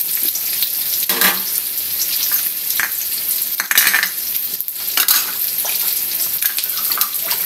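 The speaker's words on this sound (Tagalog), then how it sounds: "Matoast na yung ating karne." Meat toasting in a pan with garlic and onion, a loud continuous sizzle and hiss punctuated by scraping stirs, close up with no talking.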